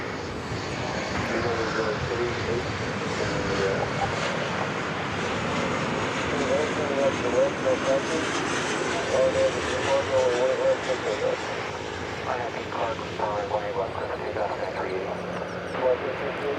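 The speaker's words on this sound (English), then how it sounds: "Where's the UA jet going to? It's going to Chicago O'Hare. It's a 737-800." United Boeing 737-800 jet at Dallas/Fort Worth Airport, a broad, continuous engine roar holding steady throughout, with a voice talking over it.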